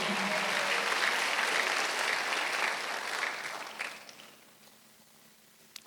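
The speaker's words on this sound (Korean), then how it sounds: "박수 한번 주세요" Applause from a church congregation during a Sunday worship service, a dense steady clatter of many hands that tapers off and fades to near quiet over the last couple of seconds.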